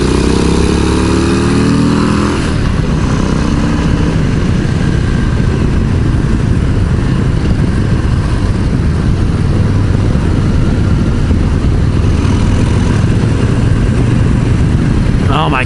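Harley-Davidson motorcycles, a stock Low Rider ST and a 131 Screamin Eagle ST, roar through a corner. Engine notes climb briefly at first, then settle into a loud, continuous rumble mixed with wind noise.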